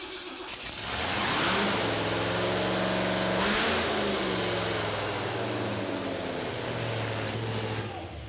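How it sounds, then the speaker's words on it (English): A big supercharged Jeep engine roars and revs hard through a loud exhaust, rising and falling in pitch, with a deep rumble throughout and no talking. "we're gonna fire this thing up before we put the fender back on"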